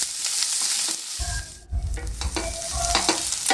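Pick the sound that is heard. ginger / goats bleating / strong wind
ginger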